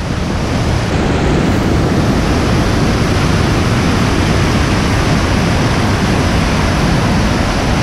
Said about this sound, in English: Snow. Waterfall.